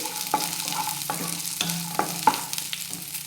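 Fresh green peas are stirred into frying onions in a pan, a soft sizzle running underneath while a spoon scrapes and taps against the metal in several distinct strokes, close by with no talking.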